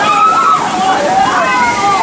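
Water rushes and sloshes over riders on a Congo River rapids raft ride at Six Flags Over Georgia, a continuous close wash of splashing with people talking over it.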